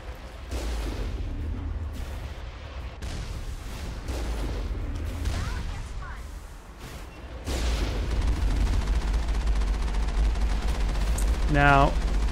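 Cannon fire in the video game Mass Effect: heavy booms over a constant low rumble, with a sharper blast midway, as a voice talks over it.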